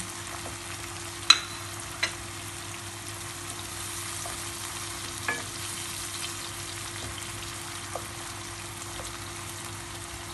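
Tomatoes and bulgur fry in a pan for a tomato bulgur pilaf, giving a steady, close sizzle throughout with a few sharp clicks and taps of a utensil against the pan.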